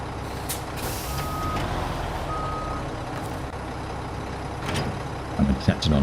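A heavy truck in the SnowRunner game reverses to hitch a log trailer, engine rumbling steadily with repeated reversing beeps and hisses of air brakes, then a few louder knocks near the end.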